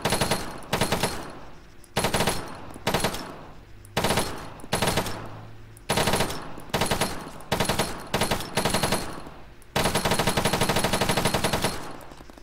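Automatic rifle fire in the video game Arma 3 comes in loud, close bursts of rapid shots separated by short pauses, ending in one longer sustained burst.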